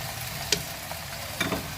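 Tomato dropped into a simmering pot of turkey leg and vegetables, giving a soft steady sizzle with a couple of brief splashy bursts as it lands.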